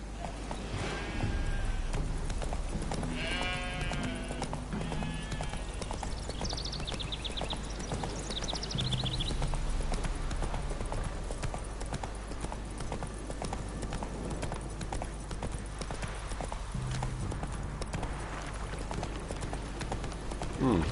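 Steady clip-clop of the horse Roach galloping in The Witcher 3, rapid hoofbeats running on throughout with a brief whinny early on, all under a constant game-world ambience with a voice talking faintly in places.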